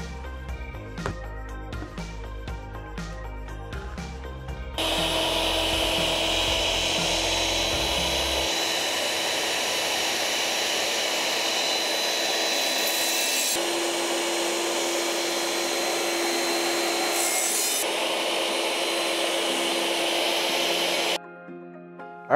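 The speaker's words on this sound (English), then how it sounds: "I'm going to take this over to my diamond tile saw and just cut this into a more usable, more uniform shape" A diamond tile saw cuts through a cast resin piece being shaped for a brain coral ring, a steady loud high whine with grinding texture running about sixteen seconds after a brief lower mechanical rumble, then stopping.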